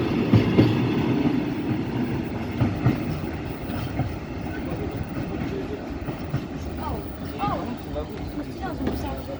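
A freight train with special wagons and large tarpaulin-covered ex-SNCF cars rolls past at a French trackside spot, with continuous rumble, rhythmic clickety-clack over rail joints and brief wheel squeals, heard fairly close.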